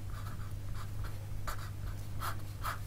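Pen or marker writing on a board during a physics problem solution, quick scratchy strokes in bursts with brief pauses, close and clear over a low steady hum.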